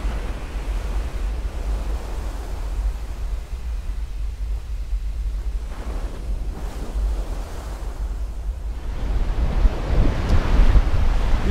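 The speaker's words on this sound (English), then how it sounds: "The wind has changed to southerly now, so I have it straight on my beam." Wind and surf on the open Norwegian Sea aboard a sailboat far offshore, a steady broadband rush of waves and gusting wind against the microphone, building louder toward the end with no voices.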